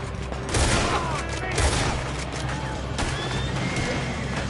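Rapid gunfire crackles through a Red Dead Redemption 2 gunfight, with dense overlapping shots and a few heavier booms under a steady roar of battle, while voices are faintly present.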